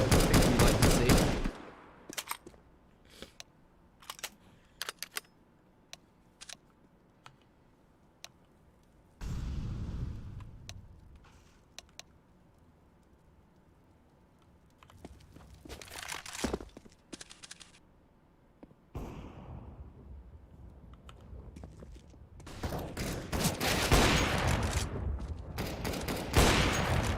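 An automatic sniper rifle fires in the CS:GO match. Loud bursts of shots come near the start and again in the middle and end, with sparse single cracks scattered through quieter stretches.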